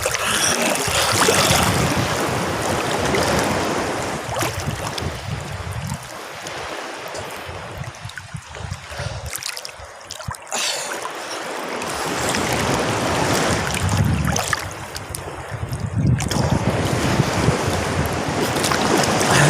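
Sea waves wash and break at a beach on Calaguas Island, Vinzons, Camarines Norte, a steady broadband surf with some wind that swells and eases in loudness throughout, with no talking.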